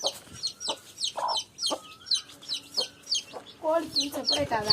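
Chickens in a coop cluck and squawk in short, repeated bursts, fairly close and lively, with a few higher calls among them and no talking over them.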